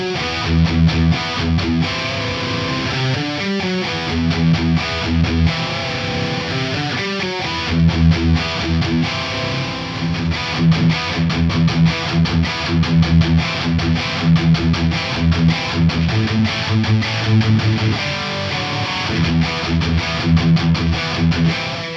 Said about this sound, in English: taking a power chord, like in this case an E5, and then raising the top note by a semitone.